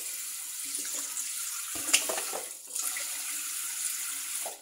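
Tap water runs steadily into a sink while ingredients are rinsed under it, a close hissing splash with brief clatters and shifts in the flow as things are moved beneath the stream.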